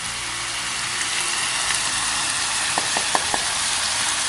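Kashmiri chilli powder, coriander powder and garam masala sizzle steadily in hot oil in a pan while being stirred for a Kerala mutton biriyani, with a few soft scraping taps near the end.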